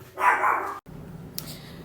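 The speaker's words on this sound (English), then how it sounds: "And you can hear my dogs barking." A dog gives a quick pair of barks, then a short pause and a fainter yip, with low room rumble underneath.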